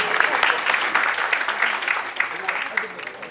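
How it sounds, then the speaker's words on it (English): Crowd applause at a comedy set during a candidacy announcement fundraiser, a steady wash of many hands clapping from the audience, with some voices mixed into the noise. "Let's give a big round of applause for the people who put together the food."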